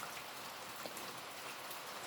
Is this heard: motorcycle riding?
no